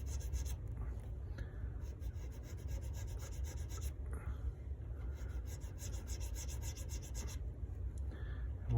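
A file rasps back and forth in a guitar nut slot, making steady close scraping strokes with brief pauses between passes.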